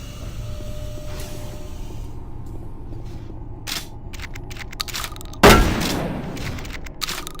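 Gunfire in the Doom 3 Phobos mod: scattered weapon shots over a low game background, then one loud, heavy blast with a rumbling tail, followed by further sharp reports.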